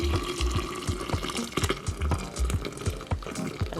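Cucumber puree and water poured into a 1.5-liter infuser pitcher, a close, continuous splashing pour with gurgling, rhythmic glugs throughout.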